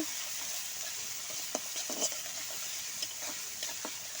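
Chopped onions fry in a pan for a chicken curry, a steady close sizzle broken by several scraping stirs of a spoon, with no voices.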